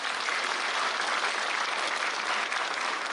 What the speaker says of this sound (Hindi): तो ताली ऐसी नहीं बजी जैसी बजना चाहिए